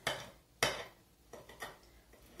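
A knife knocks sharply against a glass cutting board while fish is being cut, a few hard separate taps spaced about half a second to a second apart, with nobody talking.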